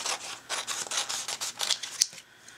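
Paper is trimmed by hand for a mixed-media pocket letter craft, giving a quick run of crisp, close cutting snips that end with one sharper snip, followed by a brief quiet tail.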